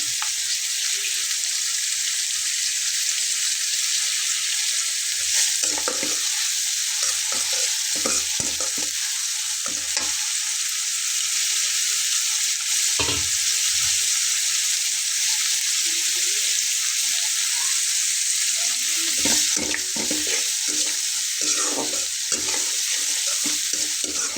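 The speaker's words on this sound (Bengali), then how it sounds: "দেখুন পেঁয়াজটা ভাজা হতে হতে তার ভেতরে আমি লবণটা দিয়ে নেব, তাহলে কিন্তু পেঁয়াজটা চটজলদি ভাজা হয়ে যাবে।" Onion fries with salt in a pan, a steady bright sizzle throughout with repeated scraping strokes of stirring layered on top, close and fairly loud.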